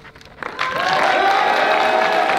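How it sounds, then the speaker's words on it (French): A live audience bursts into applause and cheering after a brief quiet start, building quickly into a dense, steady roar of clapping that holds loud to the end. "je vais vous demander de vous applaudir"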